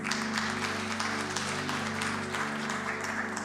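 A church congregation at a Sunday Hindi service applauds to welcome the pastor, with steady clapping spread across the room and a sustained musical tone underneath throughout.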